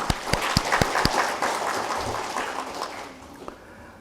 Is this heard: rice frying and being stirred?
no